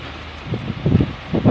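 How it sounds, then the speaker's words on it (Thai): Wind blows steadily through a jackfruit orchard on a cold day, a continuous broadband rush with low gusty rumbles swelling twice, buffeting the microphone. "ลมพัดวอยวอย"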